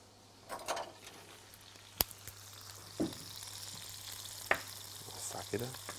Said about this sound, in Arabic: وعلى ما دي تسخن ابتدي احط السمك